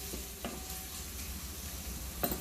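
Onions saute quietly in a pan with a soft, steady sizzle, broken by a few light stirring scrapes.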